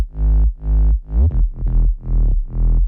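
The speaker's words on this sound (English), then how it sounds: "It's just 2 sine waves and it sounds like this." Progressive house sub bass built from two sine waves, played as a loud, deep, pure tone in six short rhythmic notes with gaps between them and slight pitch glides in the middle notes.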